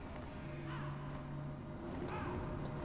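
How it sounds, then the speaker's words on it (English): Crows caw in Metal Gear Solid, two short harsh calls spaced about a second apart over a steady droning game background, faint and without speech. "why are there still birds?"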